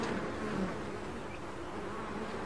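Bees drone in a dense, continuous buzz and hum that stays even and fairly quiet throughout, with no other sounds or voices.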